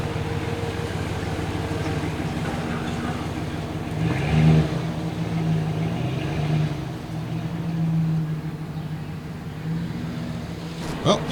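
An old pickup truck's engine idles and pulls away, a steady low rumble with two brief swells of revving as it moves, ending in a short knock.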